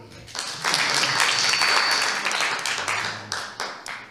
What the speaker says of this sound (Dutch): Mag ik het applaus horen?